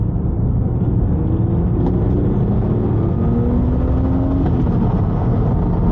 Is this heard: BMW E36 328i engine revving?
yes